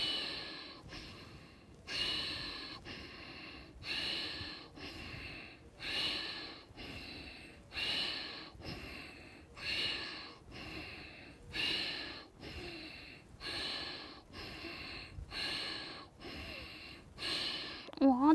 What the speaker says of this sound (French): on aspire, on ouvre la cage thoracique. On expire, on contracte la cage thoracique